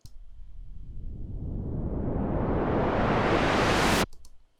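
Synthesized white noise riser with a filter sweeping upward, a hiss that brightens steadily for about four seconds and then cuts off abruptly, alone with no voice.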